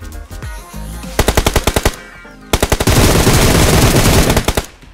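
Rapid automatic gunfire in the PUBG Mobile shooter game, loud close bursts of evenly spaced shots followed by a longer sustained volley with a dense noisy roar, no talking.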